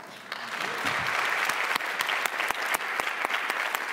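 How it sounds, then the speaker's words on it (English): Applause rises from the audience at a Eurovision press conference in Copenhagen, a steady wash of clapping with sharp individual claps standing out, continuing throughout without talk. "please give a big applause to Jon Ola Sand and Sietse Bakker."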